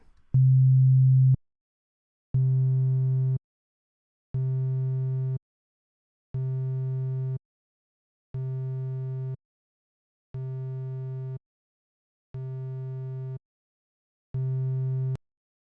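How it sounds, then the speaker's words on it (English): A steady low test tone passing through a compressor sounds in eight even bursts separated by short silences, each burst holding at a similar level with no voices. "we should start to hear more signal being compressed"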